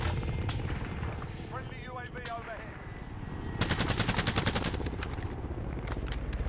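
Rapid video game gunfire with bursts of automatic shots, fairly faint overall, growing into a denser rattling volley partway through, mixed with game effects while players talk over it.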